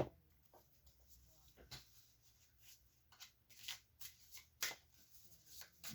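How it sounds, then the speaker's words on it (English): Oracle cards from a brand new deck are shuffled by hand, giving soft papery riffles and flicks in short irregular bursts, quiet and close, with no talking over them. "Give it a little shuffle here."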